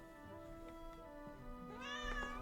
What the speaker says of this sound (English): My cat screamed at me.